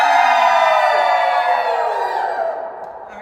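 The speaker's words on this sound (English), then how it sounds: "and we're gonna cheer. Ready? Go." Children and adults cheer together at a Healthy Minds Healthy Kids rally, a loud sustained roar of whoops and shouts that gradually fades toward the end.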